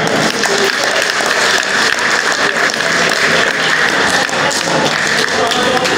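Audience applause at a Yoruba-language broadcast or public event, dense steady clapping filling the whole stretch at close range, with faint voices mixed underneath.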